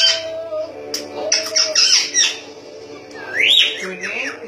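A pet parrot makes a run of short squawky, whistle-like kissing calls close to the mic, with a sharp rising whistle near the end, while a voice coaxes it in the background.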